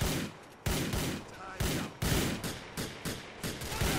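Rapid bursts of gunfire in the video game GTA 4, about eight sharp shots in uneven rhythm, loud and close, with a faint rumble between them.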